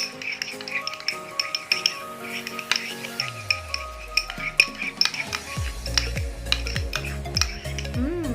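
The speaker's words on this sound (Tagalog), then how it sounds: "Haluin lang natin guys ng haluin hanggang sa lumapot yung conditioner at saka yung wala na talaga siyang suka." A conditioner and vinegar hair-treatment mixture being stirred in a bowl, with clinking and scraping of a utensil against the container in steady repeated strokes, close and moderately loud, with music playing underneath.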